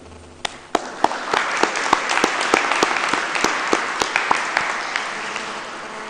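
An audience at a Grade 12 IBDP graduation ceremony breaks into sustained applause for the teachers, a dense wash of clapping with a few louder individual claps standing out.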